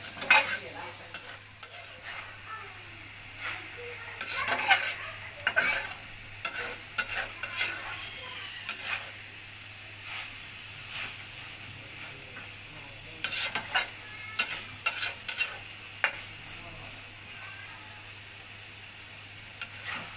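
Red amaranth leaves and onions being stir-fried in a pan, with a soft continuous sizzle under repeated bursts of a utensil scraping and tossing against the metal, coming in irregular clusters with quieter gaps between.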